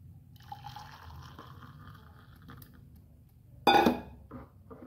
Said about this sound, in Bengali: কফিটা ঢেলে নেওয়া যাক।